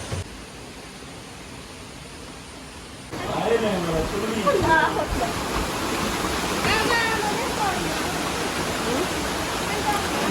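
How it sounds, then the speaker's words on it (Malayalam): Steady broadband rush of a waterfall beside a resort in Attyampara, growing louder partway through, with faint voices and bird-like chirps over the constant roar. "ഇവിടെ അതാ വെള്ളച്ചാട്ടം ഉണ്ട് കേട്ടോ."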